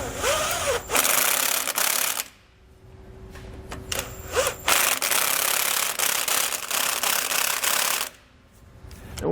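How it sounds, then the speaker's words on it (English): A 17mm socket wrench snugging bolts while a Roadmaster rear anti-sway bar is fitted on a 2014 Forest River RV, giving repeated ratcheting and metallic rubbing in bursts separated by brief quieter gaps. "I'm going to come back with that 17mm socket and make sure that all the bolts are nice and snug."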